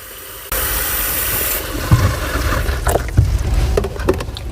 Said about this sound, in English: Now I'm filling my basin with water.